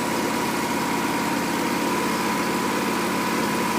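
A Hobart Champion Elite 225 engine-driven welder idles with a steady, even drone and a low mechanical hum, constant and moderately loud close by, with no speech.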